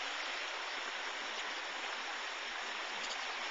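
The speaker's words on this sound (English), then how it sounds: "This water comes through an irrigation canal and is also used for" Water rushes through an irrigation canal feeding rice fields near Gunung Gede Pangrango National Park, a steady, even hiss of flowing water close by with no voices.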